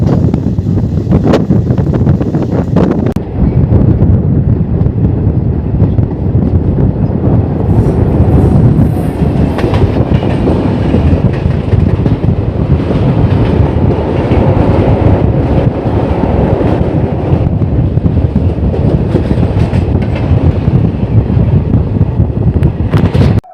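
Train 13053 Howrah–Radhikapur Express passing close by, a loud, steady rumble and rush of wagons lasting throughout with gusty wind buffeting the microphone, no voices.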